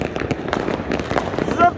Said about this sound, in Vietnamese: màn pháo hoa được bắn lên trên trời rất là tuyệt vời các bạn ạ